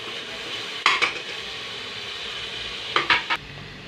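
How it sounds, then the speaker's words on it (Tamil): Four tomatoes sauté in a pan for a country chicken gravy, a soft steady sizzle broken by two clusters of spoon scrapes and clinks against the pan, close by, with no talk. "தக்காளியை போட்டு நல்லா வதக்கிடுங்க."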